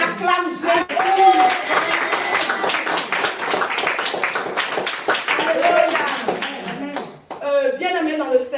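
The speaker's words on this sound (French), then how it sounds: "On acclame Jésus" Congregation clapping to acclaim Jesus at a women's gathering in France, a steady loud wash of many hands clapping together under voices that speak and call out over it.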